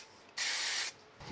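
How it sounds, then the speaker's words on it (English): A single short burst of spray glue hisses for about half a second, close by, then stops in a quiet room. "So I'm going to do a little bit of spray glue on the back,"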